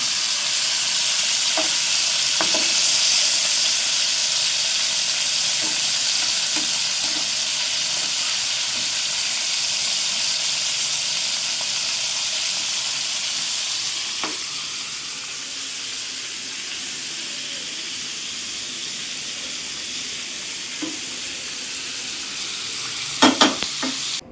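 Chicken pieces for biryani fry in a pan with a steady, close hiss of sizzling oil that lasts throughout. A few light clicks and scrapes occur near the end.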